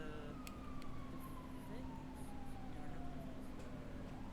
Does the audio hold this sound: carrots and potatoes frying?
no